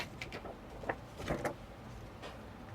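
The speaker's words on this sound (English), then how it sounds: "Sorry for the squeaky chair." A squeaky chair shifting under someone seated at a craft table, giving several faint, scattered creaks and squeals in a quiet room, without speech.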